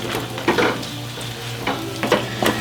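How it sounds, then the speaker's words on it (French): Choux pastry dough of flour, boiling water and butter stirred quickly in a hot pan, with steady sizzling and a few close scraping strokes of the spoon, no voices. "L'eau commence à bouillir, farine 300 g, et on mélange très vite."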